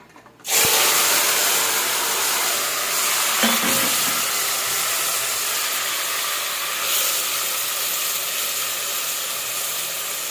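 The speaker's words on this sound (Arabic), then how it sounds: "بصوا الزيت سخن معانا هنا، هنبتدي ننزل بالطماطم" Tomatoes drop into hot oil in a home kitchen, setting off a sudden loud, steady sizzling hiss that continues evenly with little change throughout.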